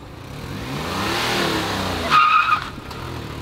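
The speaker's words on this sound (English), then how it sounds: "Burnt some rubber." A Honda Insight doing a burnout: a steady rush of engine and spinning tires builds, then a brief, sharp tire screech rises near the end before easing off. No one speaks.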